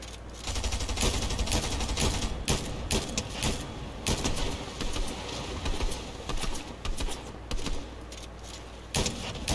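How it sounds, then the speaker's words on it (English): Distant gunfire in a video game: rapid bursts and scattered shots that sound far off, arriving in uneven clusters over a steady background. "I think I hear you guys in game firing from very far away"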